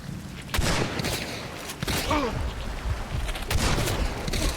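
Gunshots from a Spectre gun in a video game ring out as several loud, broadband bursts spread across the moment, over a busy game soundscape.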